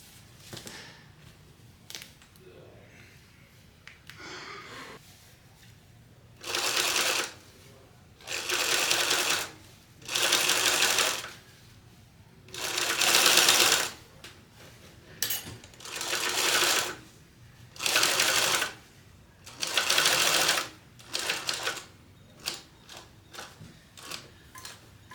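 Sewing machine stitching a pocket on a fringe clutch bag, running in repeated loud bursts of rapid whirring separated by short pauses, close up.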